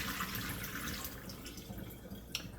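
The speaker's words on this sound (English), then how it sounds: "Drain the water off." Water draining from a pan of cooked breakfast sausage links, a steady close pouring and trickling wash that tapers off, with a small clink near the end.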